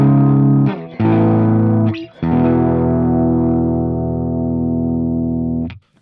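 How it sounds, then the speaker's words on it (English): Clean electric guitar tone through an amp strums a few sustained chords, each ringing out before the next, loud and close with no talking. "So my clean tone sounds like this."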